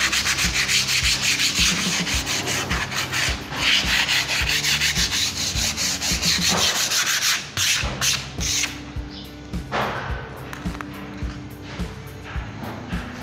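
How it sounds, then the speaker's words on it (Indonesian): Edges of an HPL laminate board over plywood with PVC edging are sanded by hand, giving a rapid, rhythmic back-and-forth rasping scrub that continues loud and close, with brief pauses and changes in stroke. "Kita amplas lagi bagian."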